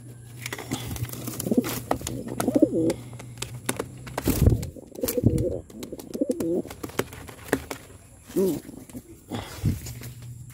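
Pigeons coo intermittently during a first training session, soft calls scattered across the scene while people talk in the foreground and occasional knocks and handling noises break in.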